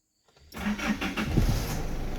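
An Isuzu D-Max pickup engine, with its check-engine light on, cranks and catches after a short silence, then settles into a steady, close rumbling idle.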